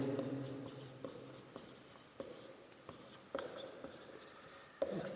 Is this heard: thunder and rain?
no